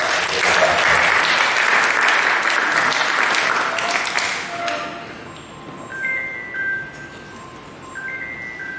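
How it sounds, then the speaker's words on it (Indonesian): An audience claps loudly and steadily for several seconds, then the applause fades out, leaving faint tones and background noise. "Kita beri tepuk tangan yang meriah"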